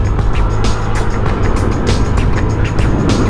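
A 2021 Honda Click 125i scooter being ridden gives a loud, steady engine drone mixed with heavy wind rush and road noise, close and continuous throughout, with no talking.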